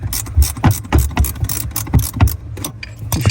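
A ratchet with a 13 mm socket works loose the brake pedal bolt on a 2016 GMC Canyon during a brake booster replacement, giving quick, close, irregular bursts of clicking with metallic knocks.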